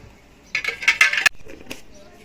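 A spoon stirring lemon sherbet in a glass gives a quick flurry of close, bright clinks and scrapes lasting under a second, then one last lighter tap.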